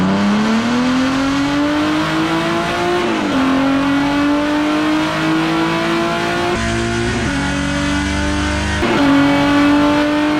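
A race car on a dyno, prepared for a Gridlife event, revs hard: a loud, continuous engine note climbs steadily, drops briefly at each of several gear shifts, then climbs again.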